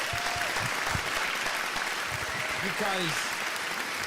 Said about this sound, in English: Guys, honestly, round of applause for all our sponsors right now.